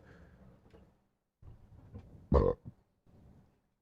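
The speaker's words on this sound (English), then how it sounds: "do a really big burp" A single loud, short burp bursts out between stretches of quiet talking, close to the microphone.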